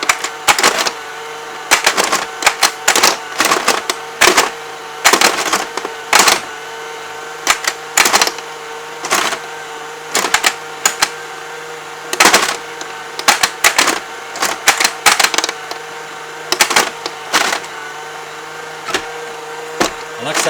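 Plastic bumpers on a Tomy Atomic Pinball tabletop game snap and clatter in rapid irregular bursts of sharp mechanical clicks, close and fairly loud, with no talk over them.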